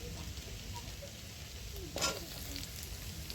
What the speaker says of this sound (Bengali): তো রসুনটা আমার ভাজা ভাজা হয়ে গেছে। এবার আমি পেঁয়াজটা দিয়ে দিচ্ছি।